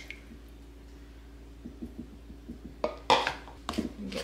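Lemon juice is stirred into blueberry pie filling in a bowl, heard as soft wet squishes and light scraping strokes that build into a few louder clinks near the end.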